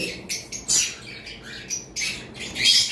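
Several conure parrots let out short, shrill squawks and chirps in quick bursts, close by and fairly loud, with no talking.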